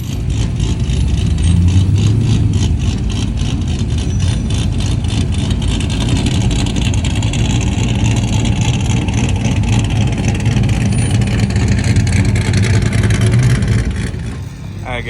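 A sleeper Squarebody truck rolls in to park at LS Fest East 2023, its engine a steady, loud, low rumble throughout with a slight rise near the start, fading at the very end, with a voice faintly present beneath.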